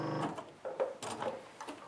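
A sewing machine quilting clamshell stitches on a grid, running in short whirring bursts with brief pauses in between, close and clear with no talk.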